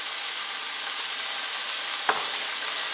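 Vegetable samosa filling with garlic ginger paste, chili and salt cooking in a pan over medium heat gives a steady, even sizzle, with one brief clink near the end and no voices.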